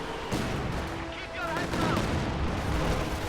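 Katyusha rocket artillery barrage in a WWII-era real-time strategy game, heard as a dense rumbling volley of launches and blasts that swells midway and keeps rolling, with a voice talking over it.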